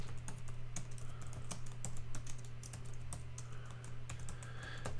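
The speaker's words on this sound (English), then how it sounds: "I'll just type it in here, Steve." Fingers type on a computer keyboard, a steady stream of quick, close, crisp key clicks with irregular rhythm and no talking.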